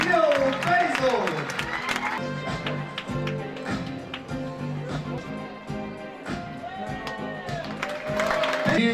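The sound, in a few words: audience applause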